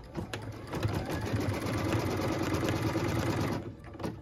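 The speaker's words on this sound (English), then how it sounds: "What we're stitching now is the tack down line for piece number 3." A sewing machine runs a tack-down line on a pieced tree quilt block, a steady, rapid mechanical hum of stitching heard up close for several seconds after a few starting clicks, then stopping.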